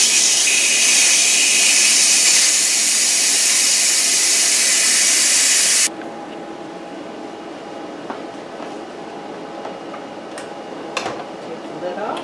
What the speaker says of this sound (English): I'll go ahead and stop it and release the pressure since I'm ready for it